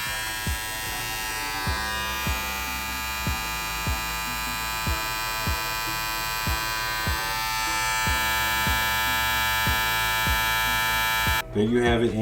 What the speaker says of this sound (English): This blade is a wonderful combination with this trimmer.